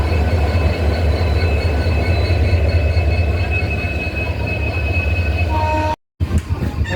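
A Howrah to Digha EMU train rolls past Tikiapara with a loud, steady rumble and faint wheel squeal. Near the end the sound cuts out for a moment.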